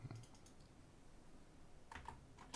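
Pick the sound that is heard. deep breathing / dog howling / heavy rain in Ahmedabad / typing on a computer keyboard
typing on a computer keyboard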